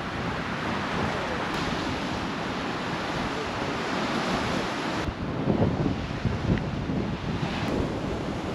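Ocean waves and a strong current wash steadily at a Castaway Cay beach, a continuous loud surf roar mixed with wind buffeting the microphone.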